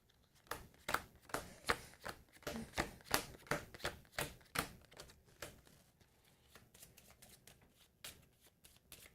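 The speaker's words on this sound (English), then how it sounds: "adventure cards, I'll just shuffle them up and divvy them up into 2" Adventure cards for a fantasy board game being shuffled by hand at a table, a quick series of sharp riffling snaps in bursts that tail off into softer rustling, close and without talk.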